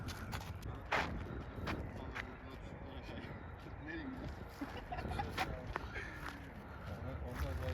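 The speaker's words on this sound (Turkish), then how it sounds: "Orayı sakin atı vermiş bana ama hiç sakin gibi hissetmiyorum" A horse walks during a ride in Azerbaijan, its hooves clip-clopping steadily under nearly continuous talk, with chickens clucking faintly in the background.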